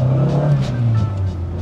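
A 1970s Honda Accord with a 72-horsepower engine accelerating, its engine note heard from inside the car and rising in pitch as it picks up speed, loud and steady.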